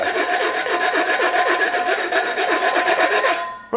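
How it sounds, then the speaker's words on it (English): Sandpaper rubbed back and forth over the cut metal edge of a homemade ultralight cook pot on a flat surface, a steady, close, rasping scrape with regular strokes that fills the whole stretch and stops abruptly at the end. "I am going to smooth it off with sandpaper so we don't get any cuts"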